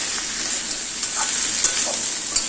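Cubed potatoes and papaya fry in a pan over a high gas flame, giving a steady, close sizzle with a few light stirring clicks and no talking.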